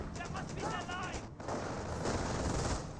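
An MG42 machine gun fires in Company of Heroes, a World War II strategy game. It sounds as loud, steady bursts of rapid fire mixed with other battle noise, with some tonal sound partway through.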